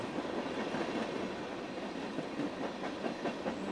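Train running in the 428 Shibuya Scramble video game, a steady rumbling rail roll with faint clickety-clack wheel rhythm, continuous and moderately loud without any talk.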